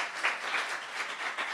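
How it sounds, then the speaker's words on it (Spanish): An audience applauds after a talk on allergy and cancer, a short burst of steady, dense clapping from many hands at moderate volume. "un aplauso por favor"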